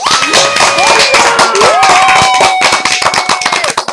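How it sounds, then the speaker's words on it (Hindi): An audience claps in a dense, rapid patter of many hands, loud and close, with a sustained tonal line running over the applause. "एक बार ताली बजा दो।"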